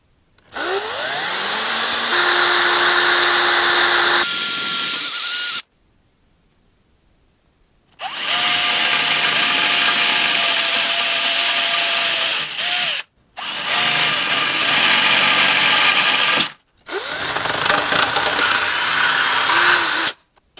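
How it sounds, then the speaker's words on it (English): A power drill whines loudly in several long bursts, pausing briefly between runs, its pitch shifting as it bites through thick steel on a boat transom. "drilling through this thick metal with a drill, not real easy to do"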